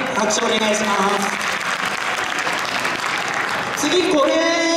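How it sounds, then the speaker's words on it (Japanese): A crowd applauds at an Awa Odori dance lecture held at Koshigaya Lake Town, loud steady clapping filling the whole stretch, with tonal musical or vocal sounds rising over it toward the end. "拍手お願いします。"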